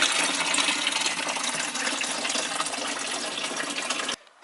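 Kettle water pouring into a small washing machine aboard a narrow boat, a steady close gushing splash lasting several seconds before stopping abruptly.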